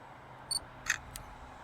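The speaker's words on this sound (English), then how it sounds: "that's the sound of modern technology taking electronic images of something quite a long way away" Faint electronic noises from a digital camera over quiet room hiss: a short high beep, then a soft mechanical whir and click a moment later.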